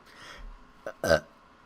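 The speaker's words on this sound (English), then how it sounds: "Burp." A person lets out a short, loud, close burp, preceded by a faint earlier sound and low background noise during a podcast call.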